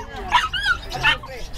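A bully-breed dog at a gathering in Bocaue whimpers and yips in short high whines, two or three close cries over a quiet background.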